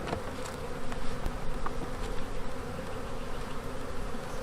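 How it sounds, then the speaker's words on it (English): Robber bees swarm around a dead, beetle-infested beehive after a winter kill, giving a continuous close buzzing with individual insects flicking past, no voices. "See these bees coming in here at the top? It's robbing."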